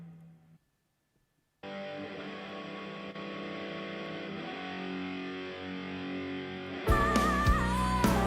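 Distorted instruments sustain through a pop ballad mix, a gritty layered tone that swells louder and brighter toward the end, with no talking.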